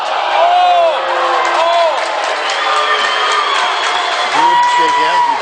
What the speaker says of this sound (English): the Marion fans are cheering the poor sportsmanship